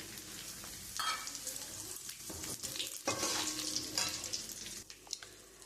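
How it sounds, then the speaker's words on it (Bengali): Dried red chilli, bay leaf and cumin seeds crackle in hot oil left from frying potatoes, a steady close sizzle with scattered pops and a few stirring scrapes, no voices. "ওই আলু ভাজার তেলের মধ্যে আমি শুকনো লঙ্কা, তেজপাতা আর জিরে ফোড়ন দিয়ে দেবো"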